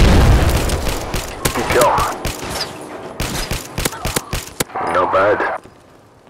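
Rapid bursts of gunfire crack through a Fallout 4 firefight in a snowy winter wasteland, sharp shots and booms in clusters at varying distance, with voices calling out over the shooting.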